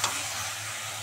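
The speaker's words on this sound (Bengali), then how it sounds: "দিয়ে সয়াবিনগুলো দিয়ে আরও 2-3 মিনিট কষাবো।" Soybean chunks stir-fry in spices in a hot pan for a soybean and duck-egg dalna. A steady, close sizzle continues without break, with a faint scrape at the start.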